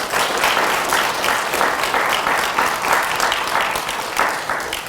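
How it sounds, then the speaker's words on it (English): Sustained, dense applause from an audience at a high school health care technology pinning ceremony, honoring teachers Ms. Norton and Ms. Fitzgerald; steady, even clapping fills the room for the whole stretch without a break. "Can you please give them a round of applause?"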